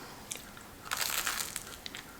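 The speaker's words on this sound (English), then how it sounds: "I'm just gonna finish this little baby cookie." Someone eats a small coconut macaroon cookie up close, with faint, quiet crunching bites and a brief cluster of chewing crackles.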